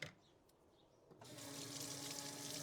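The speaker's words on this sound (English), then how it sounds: "I was going to rinse these off." Tap water runs over dried cranberries being rinsed, the flow starting after about a second and continuing steadily and fairly close, with no talk.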